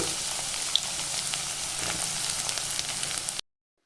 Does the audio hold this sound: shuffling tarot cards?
no